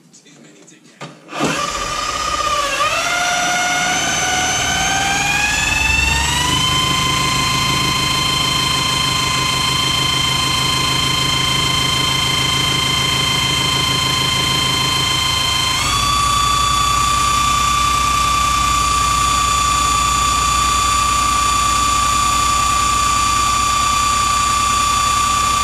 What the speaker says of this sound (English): the load on the drill goes up as the alternator starts to work